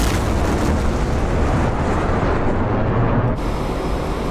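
A PL-15 air-to-air missile launch in DCS World, a loud, sustained roaring blast of broadband rocket noise that holds steadily, then cuts abruptly to a lower rumble near the end.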